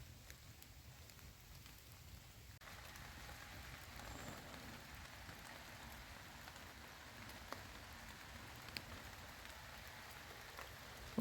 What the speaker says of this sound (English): With a bit of rain down